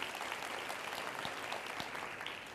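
Steady applause from an audience at a talk on women's health and wellness, dense and continuous throughout at moderate distance, with no voices rising above it.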